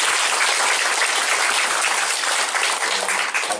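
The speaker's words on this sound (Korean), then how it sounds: "우리 하나님께 영광의 박수 올려드리겠습니다" A congregation applauds continuously and fairly loudly at a church founding thanksgiving service, a steady wash of clapping that holds for the whole stretch.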